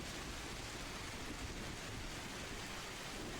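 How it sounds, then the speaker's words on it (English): Rain falling overhead as ambient background, a steady, dense hiss of even broadband noise with no distinct drops or breaks, faint and continuous throughout. "sound of the rain still comes from overhead somewhere"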